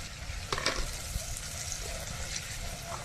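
Cashew paste and spice masala fry in oil in a pan, a steady soft sizzle with a few brief stirring scrapes, close and moderately quiet, no voices.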